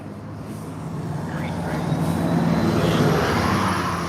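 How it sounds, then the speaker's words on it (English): Steady street traffic rolling past a city sidewalk near the Montreal Canadiens' NHL arena, a continuous low engine rumble that swells gradually as vehicles approach, with faint voices in the background. "traffic coming my way"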